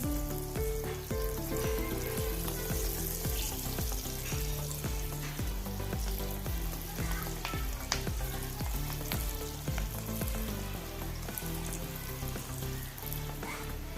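Chickpea and onion pakoda batter fries in hot sunflower oil, a loud, steady sizzle running throughout with dense crackle and busy clatter layered over it, no voices present.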